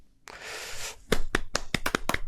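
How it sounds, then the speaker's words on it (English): A few people clap for Jimbo in a podcast studio, a short burst of about eight sharp, separate hand claps following a brief rustle of noise. "Round of applause"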